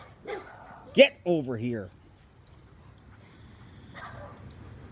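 Dogs give a brief whimpering yip and a short rising whine near the middle, heard alongside a person calling out, with low background noise between.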